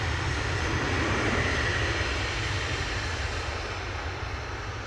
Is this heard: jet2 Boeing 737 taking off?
yes